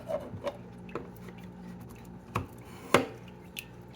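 A utensil mixes pumpkin puree into cat food with soft, wet, irregular scrapes and squishes, a few sharper knocks standing out among quieter stirring, close and alone.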